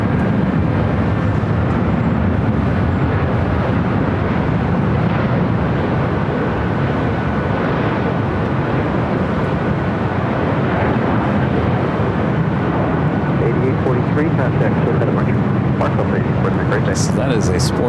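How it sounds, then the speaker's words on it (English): Delta Boeing 757 sports charter jet at LAX, a loud, continuous broad roar of jet engine noise that holds steady throughout, with people talking over it. "So that is a sports charter. It's Delta 757."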